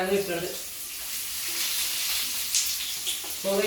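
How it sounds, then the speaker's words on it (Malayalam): Mustard seeds fry in hot oil with a soft, steady sizzle and hiss, while a voice briefly speaks at the start and end. "നമുക്ക് ഇനി ഫസ്റ്റ് കുറച്ച് കടുക് ഇടണം."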